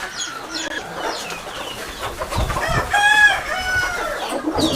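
Free-range native hens cluck and squawk close by on a poultry farm, several birds calling over one another, with a rooster's crow rising in the middle.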